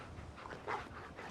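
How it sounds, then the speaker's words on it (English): A goggle-wearing dog in Fallout 4 panting and whimpering softly in short, quiet breaths, heard alone. "Whose dog is this, and why is he wearing goggles?"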